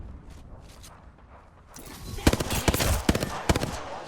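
Several sharp gunshots ring out in Apex Legends, a few irregular bursts from fairly close, following a stretch of quieter ambient game noise.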